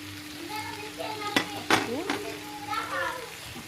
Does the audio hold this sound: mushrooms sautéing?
yes